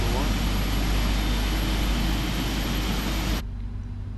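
Boeing 777 jet engine spooling up in the PMDG flight simulator game, a loud steady broadband roar with a high whine that holds for over three seconds, then drops abruptly to a quieter hum.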